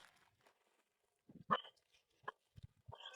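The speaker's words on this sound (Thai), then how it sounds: "หมาข้างบ้านเห่าอีกอะ" A neighbour's dog barks a few times in short, faint bursts, heard at a distance over a quiet rural durian orchard with otherwise near silence.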